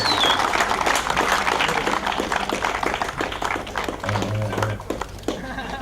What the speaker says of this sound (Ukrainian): Оплески переможцям цьогорічного турніру.